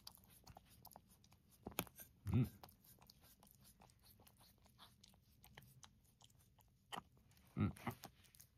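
A pet eating food with a few crunchy chewing bites close by, separated by quiet pauses, while someone talks softly and praises it.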